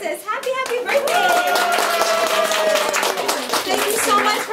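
Children at a birthday party for Alexis clap in a lively, brisk round, close and loud, with excited kids' voices cheering over the clapping throughout.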